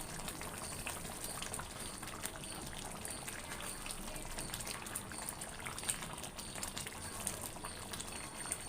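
Chicken gravy with onions simmering in a pan, a soft continuous bubbling and sizzling hiss, faint and steady throughout.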